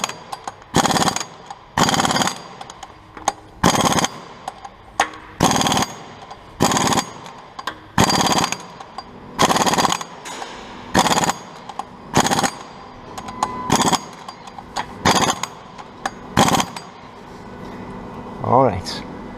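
Impact gun rattling Honda S2000 AP1 flywheel bolts tight, a dozen loud, close bursts of hammering each lasting about a second, separated by brief pauses.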